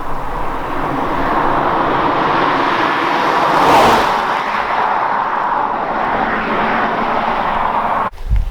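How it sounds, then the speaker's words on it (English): A 2007 BMW 328i's engine and exhaust make a loud, steady broadband roar for about eight seconds, swelling slightly near the middle before cutting off abruptly near the end. "you get a lot of engine noise, but the engine noise actually sounds pretty freaking good"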